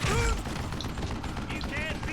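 Rapid bursts of gunfire in the Wild West video game Call of Juarez: Gunslinger, fairly faint, mixed with a busy game soundtrack and brief whistling tones.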